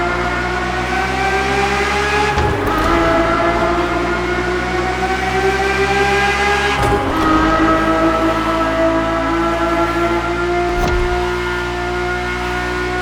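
A Ferrari F50's naturally aspirated V12 screams through a racing video game, revving high and loud, with a sharp upshift about every four seconds as the pitch drops and climbs again.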